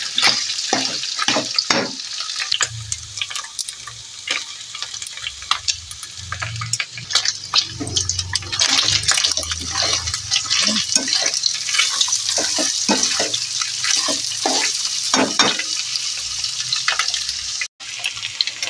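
Meat sautéing in a pan with ginger and onion, a steady close sizzle with repeated stirring scrapes and clinks throughout, no talk, before a brief sharp knock near the end.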